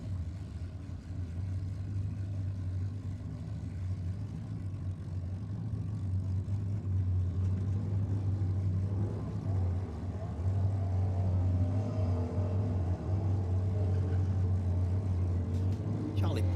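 Cars at a drag racing meet at Sydney Dragway, including a 1965 Mustang, roar with a steady heavy engine drone that builds in the second half, while a commentator talks over it.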